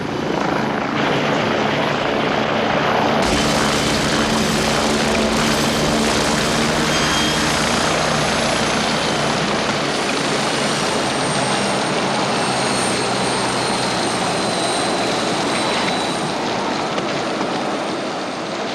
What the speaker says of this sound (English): There's your helicopter.